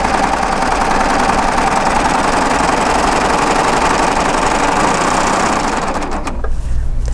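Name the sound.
sewing machine sewing a straight chain stitch on lycra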